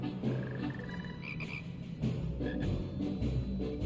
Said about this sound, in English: I love the little wizard frogs.